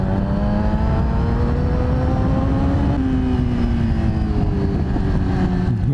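A Yamaha R6 sport motorcycle being ridden on a sunny day, its engine droning steadily and loud throughout, pitch shifting gradually as the revs rise and fall, with wind and road rumble underneath and no voices.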